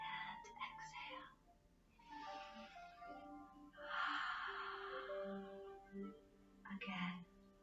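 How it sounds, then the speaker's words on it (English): Slow inhaling and exhaling during a chair yoga session, soft breathy airflow rising and falling at low volume, with an instructor's faint voice and quiet room tone beneath. "Inhale and exhale."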